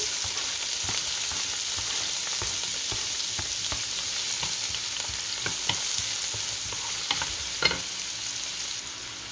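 Garlic and onion fry in hot oil with a steady close sizzle, broken by light scraping stirs and a few clinks of a utensil against the pan.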